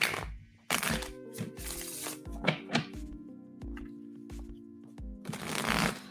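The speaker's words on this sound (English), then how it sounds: "I'm going to be on mute for a second while I shuffle for career" Cards being shuffled by hand for a tarot-style career reading, a series of crisp riffling bursts and soft thunks close up, separated by short pauses, with faint tonal background hum and no talking.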